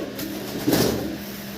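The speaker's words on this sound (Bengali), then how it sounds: "এক জোড়া রেসার কবুতর আপনারা দেখতে পারতেছেন" A pair of imported racing pigeons gives a single brief, low, throaty coo, heard close and fairly quiet, with no voices over it.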